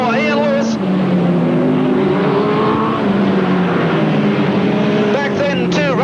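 Speedcar race engines roar steadily as a car exits turn 4 near the end of the 1985 Ray Revell Speedcar Memorial, a loud continuous engine drone with shifting pitch, with a commentator talking over it.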